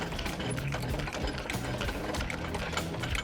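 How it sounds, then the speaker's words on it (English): Rapid mechanical whirring and clicking as a 19mm socket wind-down bar cranks out the stabilizer leg on an MDC Forbes 12+ offroad caravan, a steady close ratcheting buzz. "You grab your wind down bar, which is this, a 19mm socket on the end of it, put it inside, and you wind it out."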